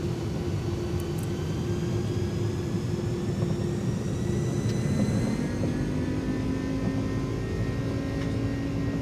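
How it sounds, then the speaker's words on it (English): A300-600R jet engines spooling up to takeoff thrust in a flight simulator, a steady loud turbine roar with a rising whine layered over a low rumble, continuous and alone. "Those engines sounding really great."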